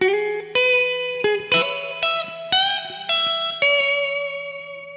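An electric guitar plays a riff, about eight picked notes with effects, each ringing with a bright, reverberant sustain at a steady, moderate pace.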